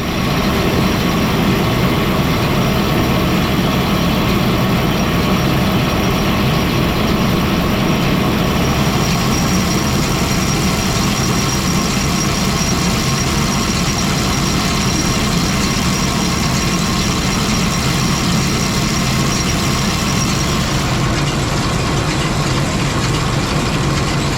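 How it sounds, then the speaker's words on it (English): A JCB Teleskid 3TS-8T tractor engine runs at a steady, loud, low idle, a continuous close rumble with no talking over it. "So let's hop in the tractor and fire it up."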